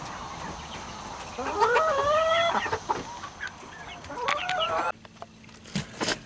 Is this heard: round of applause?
no